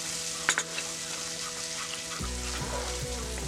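Ginger paste stirred in a hot cooking pan for a Bengali cauliflower and tangra fish curry, a soft sizzle and scraping under steady background hum, with a brief clink near the start.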